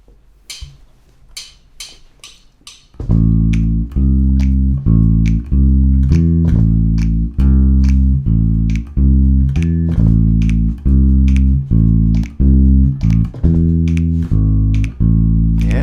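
A deep bass guitar plays the repeating walking line of a jazz song, plucked notes with a steady jazzy rhythm, loud and close, preceded by a few soft ticking clicks.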